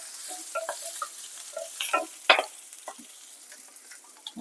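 Green chillies, cut and tossed into hot oil for tempering a Tamil kadalai (chickpea) curry. They give a steady, close crackling sizzle with scattered pops and a brief louder burst partway through, and no one speaks.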